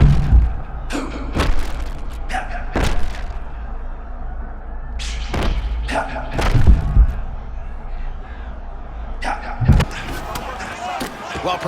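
Heavy ground-and-pound punches landing in a UFC 6 fight between Arman Tsarukyan and Paddy Pimblett, a string of loud, sharp thuds in clusters, some doubled, over steady crowd noise and commentary.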